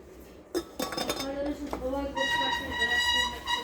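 Metal pots, cooking kettles and teapots clink and clatter as they are handled in a shop, with sharp ringing hits and resonant metallic tones, close by under someone talking.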